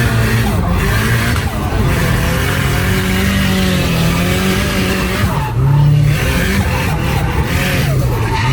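Rear-wheel-drive Mitsubishi Lancer drifting, with loud close tire squeal and skidding over a revving engine that rises and falls, the screech surging repeatedly across the run, no talk.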